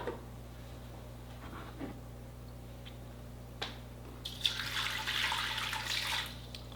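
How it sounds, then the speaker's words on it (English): Lukewarm water poured into the basin of a bread mixer in a home kitchen, a steady splashing pour of several seconds that swells near the end, preceded by a few light clicks and knocks. "So I'm going to add some lukewarm water to this basin."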